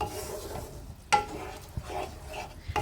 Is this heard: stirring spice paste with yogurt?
yes